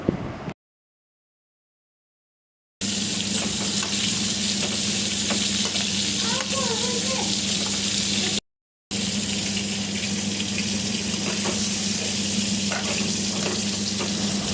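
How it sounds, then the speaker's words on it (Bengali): Shrimp sizzle in oil in a wok while being stirred, a continuous crackling fry with a low hum, interrupted by two brief silent gaps. "একটা কড়াইতে চিংড়ি মাছটা হালকা একটু ভেজে নেব। জাস্ট 2-3 মিনিট একটু নাড়াচাড়া করে উঠিয়ে ফেলব।"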